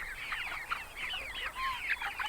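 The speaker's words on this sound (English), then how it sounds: "We got a lot of roosters in this pack." A flock of roosters clucks and chatters in a faint, busy cluster of short overlapping calls, with no talking.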